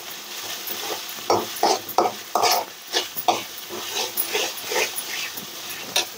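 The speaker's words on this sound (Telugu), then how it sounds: "దీని నుంచి ఇట్లా కలిపేసుకోవాలి అల్లం ఎల్లిగడ్డ." Ginger-garlic paste is stirred in a pan for an egg curry, with a soft sizzle under a run of close, uneven scrapes and clacks of a spoon against the metal.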